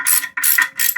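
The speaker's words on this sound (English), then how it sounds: "you can go grab a deep socket wrench and do it that way." Deep socket ratchet wrench tightening a toilet bolt while installing a wax ring: three quick bursts of bright, rattling pawl clicks, close and loud, with short pauses between strokes.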